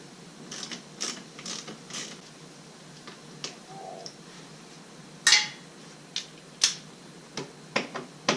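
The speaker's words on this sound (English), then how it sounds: "use your T30 tamper-proof Torx bit to remove the screws" A T30 tamper-proof Torx bit backs out the door panel screws of an R50 Mini Cooper. Sparse, quiet clicks and sharp metallic ticks come at irregular intervals, with a few louder snaps toward the end.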